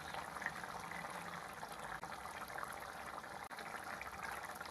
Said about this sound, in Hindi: पानी को उबाल आ गया है, ग्रेवी हमारी गाढ़ी हो गई है